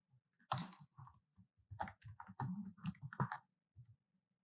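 Keys tapped on a computer keyboard while entering comments into a buyer login query form, a close, moderately loud run of irregular clicks in quick bursts with short pauses.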